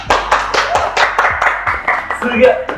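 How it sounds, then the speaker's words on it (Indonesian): Hand clapping at a question-and-answer session with Amanah boarding-school students, a quick, fairly regular series of loud, close claps with voices talking over them. "Oke, tepuk tangan"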